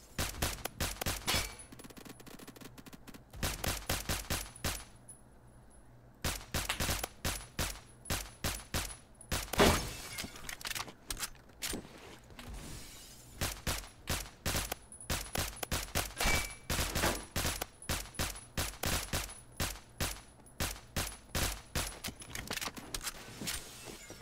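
Honey Badger rifle firing in Phantom Forces, a first-person shooter game: repeated sharp close shots in irregular bursts and single taps, with brief pauses between volleys.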